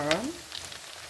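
Brief sizzle of pork frying in oil, crackling pops after a short vocal sound.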